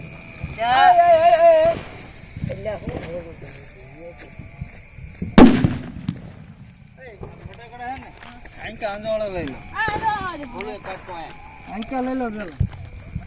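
A single sharp Diwali firecracker bang cracks out loudly near the middle, surrounded by people talking before and after it.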